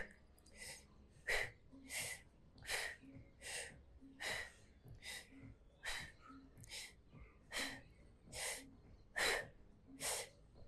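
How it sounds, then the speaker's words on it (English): Ten sharp, forceful exhalations in a steady rhythm, each a short puffing breath with a brief inhale between, close and moderately quiet, made during a braced core exercise from the McGill Big 3 routine in a yoga sculpt session. "and then 10 power breaths"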